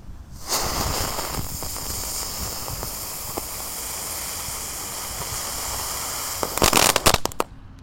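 A green terate pretek firecracker hisses and sputters continuously up close, with scattered crackles and a burst of sharp pops near the end.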